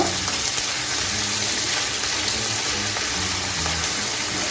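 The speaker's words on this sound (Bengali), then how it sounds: "পেঁয়াজটাকে আমি লাল করে ভেজে নেব" Onions frying in a pan, fried until reddish-brown for an egg jhuri chochori, give off a steady, dense sizzle that holds at an even level with no talk.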